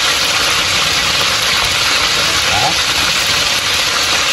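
A turbo broiler runs while chicken cooks in it, producing a loud, constant broadband whir and hum that fills the space close by without break.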